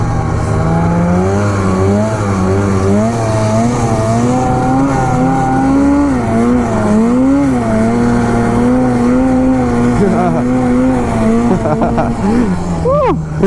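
A snowmobile engine drones loudly and close throughout, its pitch rising and dipping as the machine rides over bumps, with wind noise and a few sharp knocks near the end.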